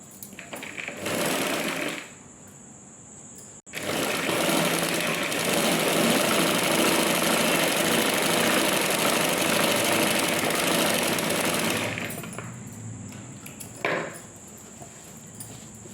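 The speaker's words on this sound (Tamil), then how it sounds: "அதே மாதிரி கீழே பெல்ட்டு தான் வந்து நான் ஸ்டிச் பண்ணிடுறேன்" A sewing machine stitches the lower belt of a blouse, running in one loud, steady burst for about eight seconds between brief quieter pauses, with no talking.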